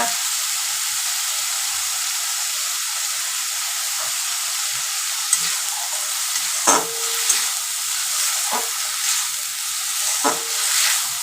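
Lightly boiled potatoes fry in hot oil with a steady bright sizzle, broken by occasional stirring scrapes and spatters in a pan.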